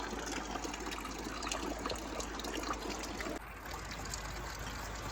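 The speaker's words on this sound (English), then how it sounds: "I need to put water inside this drum." Water trickles steadily into a drum outdoors on a rainy day, a continuous, moderately quiet splashing wash with no pauses.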